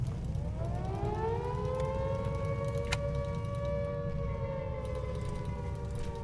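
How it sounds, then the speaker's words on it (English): A civil-defense air-raid siren wails in the war strategy game HighFleet, its tone rising and then holding a long, steady howl over a low rumble, with a single sharp click partway through. "The sirens are going off"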